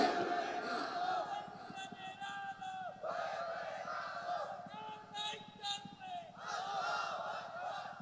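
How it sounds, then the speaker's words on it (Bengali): A large gathering at an Islamic sermon loudly chants the takbir in unison, with several sustained shouted phrases separated by short breaks, the massed voices rising and falling together. "জোরে জোরে জোরে তাকবীর দাও"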